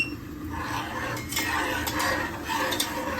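Homemade face-care gel mixture stirred in a bowl, a steady scraping and swishing with faint clinks of a utensil against the container, close and continuous without talk.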